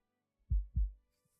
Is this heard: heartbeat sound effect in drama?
yes